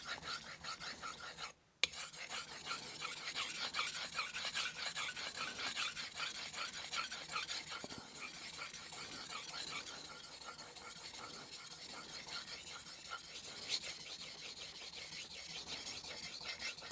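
Knife blade stroked on a wet 1000-grit vitrified whetstone, a continuous gritty, hissing rasp of rapid back-and-forth strokes, close and steady with one brief pause near the start, no voices.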